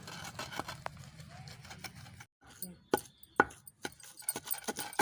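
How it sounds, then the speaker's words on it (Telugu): Ginger and garlic pounded in a mortar for a tiffin-centre ginger chutney, a series of dull, irregular thuds and knocks that sharpen toward the end, with brief pauses between strikes. "ఇందులోనే ఎల్లిపాయలు కూడా వేసుకొని మెత్తగా దంచుకోవాలి"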